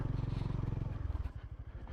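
A stock 2025 Honda GB350S single-cylinder 350cc motorcycle thumps in a steady low pulsing rhythm on a rocky road, the engine beat close and prominent before easing and slowing toward the end.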